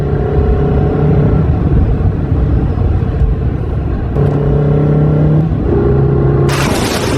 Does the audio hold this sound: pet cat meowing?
no